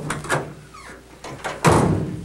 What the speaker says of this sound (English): The latch mechanism has been redesigned to be more door-like,